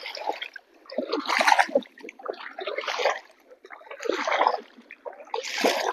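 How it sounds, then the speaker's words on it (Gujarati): Water drains out of a flooded farm field through an opened outlet, gurgling and splashing in uneven surges that rise and fall every second or so, fairly close with no talk. "આ ખેતરમાં અત્યારે પાણી નીકળવાનું ચાલુ છે"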